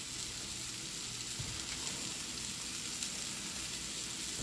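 Fresh chopped garlic stirred in a hot frying pan, a steady soft sizzle of frying with faint scraping, close and continuous throughout with no talking.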